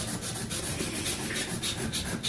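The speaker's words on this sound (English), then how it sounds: "Get right into the fibers of the wood. Take that varnish right off." Sandpaper scrubs varnish off wood in fast back-and-forth strokes, a close, steady rasping rub with regular pulses and no talking.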